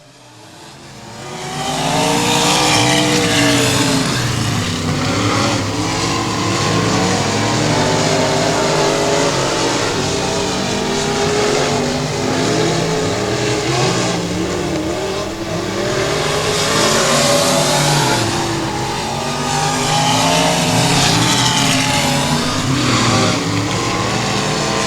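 Race cars roar around the oval at Boothill Speedway, engines loud and continuous with swelling passes as the field goes by, the sound held steady at high level throughout.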